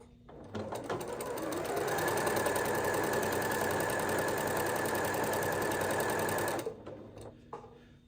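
A sewing machine stitches quilt blocks in one steady, close, continuous run of rapid mechanical whirring lasting several seconds, with a few soft clicks before and after and no talking.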